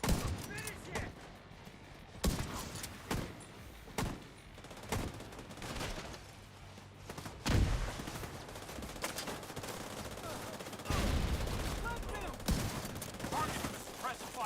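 Repeated bursts of gunfire from a video game during a live online invasion match, sharp volleys recurring throughout with dense background game noise and some speech-like sounds mixed in.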